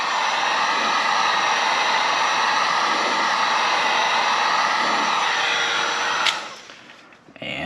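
A heat gun heats old double-sided tape on a Mercedes-Benz AMG GTS door sill, blowing as a loud, steady, breathy roar for about six seconds before it cuts off and winds down.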